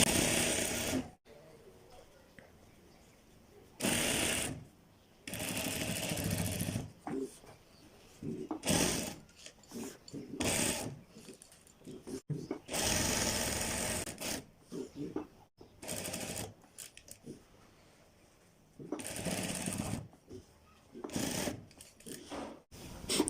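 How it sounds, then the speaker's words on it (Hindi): A sewing machine stitches a shirt during garment making. The motor whirs in repeated bursts of a few seconds each, separated by brief pauses and handling noise, close and moderately loud. "अब हम यहाँ से अपनी शर्ट की स्टिचिंग कर लेते हैं।"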